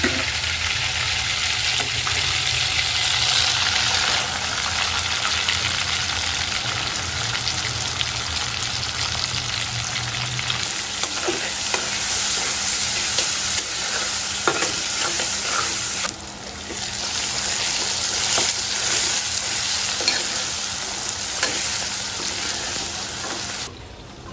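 Onions sizzling and frying in hot oil in a pan after fish has been removed, a steady loud crackle with occasional stirring scrapes throughout, no talking.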